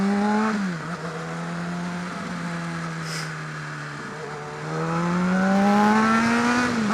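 A car engine hums steadily while braking, then its revs climb in a rising drone during a heel-toe downshift, close and fairly loud inside the cabin.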